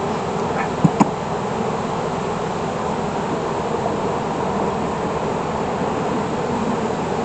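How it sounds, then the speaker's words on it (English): Honey bees swarm around an opened beehive during a beekeeping inspection, a dense, continuous buzzing hum close by with a couple of brief knocks near the start. "But it sure seems like there's a lot of bees."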